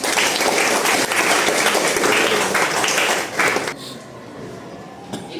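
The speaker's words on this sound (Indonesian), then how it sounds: "tepuk tangan untuk 84 ya" A junior high civics class in Indonesia breaks into dense, loud applause for classmates, sustained for several seconds before cutting off abruptly, leaving faint room tone and a stray knock.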